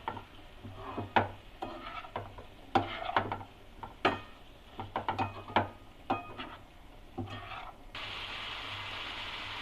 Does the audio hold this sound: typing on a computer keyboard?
no